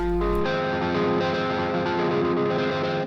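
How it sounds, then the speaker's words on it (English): Distorted electric guitar arpeggio where the notes ring into each other, blending into a sustained, smeared chord. "as opposed to overlapping notes like these."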